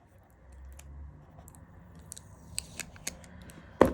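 Sticker peeled slowly off a second-hand oracle card deck: faint, soft scratchy tearing and small clicks, building to a sharper snap as it comes free near the end, close up and quiet.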